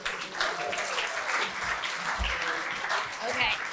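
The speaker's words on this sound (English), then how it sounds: "Round of applause, please." Audience applause at a Sales Confidence seven-minute business talk, a steady wash of many hands clapping at moderate level for the full stretch, with a murmur of voices mixed in.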